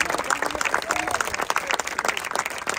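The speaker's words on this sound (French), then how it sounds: "Vous pouvez me l'applaudir" A crowd at a François Ruffin political rally in Saint-Nazaire claps loudly, with a dense, uneven patter of hands and some faint voices mixed in throughout.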